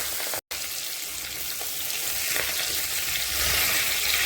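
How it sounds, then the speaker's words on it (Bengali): Catla fish pieces with roe frying in hot oil, a loud continuous sizzle with fine crackling that carries on steadily after a momentary dropout near the start; no talking. "সব দিয়ে দিলাম ডিম মাছ সব।"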